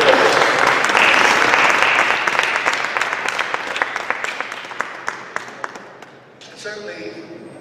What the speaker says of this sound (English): Let's give our sister Deborah and her team an acknowledgement and a round of applause.